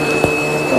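A cartoon vacuum cleaner runs with a steady, continuous droning hum and a brief thump partway through.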